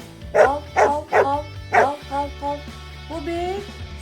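A small dog barks several times in quick succession, then gives softer whimpering yips, close and fairly loud.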